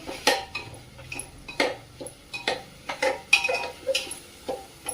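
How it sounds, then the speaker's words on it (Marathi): Rice being roasted in a pan for lemon rice, with a string of sharp, irregular clinks and scrapes of a utensil against the pan, close up and fairly quiet between hits, no voices. "तांदूळ व्यवस्थित परतून घ्यायचे"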